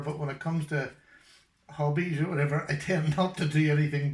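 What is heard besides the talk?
No distinct noise like a dog, phone or traffic.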